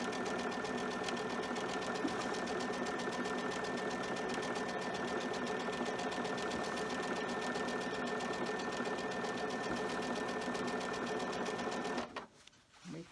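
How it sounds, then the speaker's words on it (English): A sewing machine stitches a fabric door draft stopper in a steady, loud, continuous run lasting about twelve seconds, then stops abruptly, leaving quiet room sound. "Always keep my needle down whenever I'm sewing."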